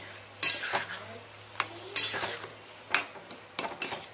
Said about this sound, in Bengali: এটাকে ভালো করে নেড়ে নিচ্ছি